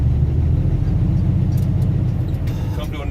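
A truck creeps forward at about 5 mph during an in-cab brake check, its low engine rumble steady and close throughout, with faint clicks near the end.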